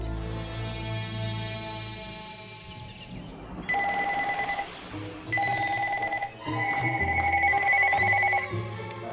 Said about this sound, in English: The phone doesn't stop ringing. It's constantly ringing.